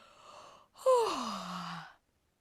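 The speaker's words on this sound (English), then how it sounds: "She let out a huge yawn." A woman reading a children's story voices a big yawn, a long breathy exhalation that slides downward in pitch after a short breath in, close and clear in a quiet room.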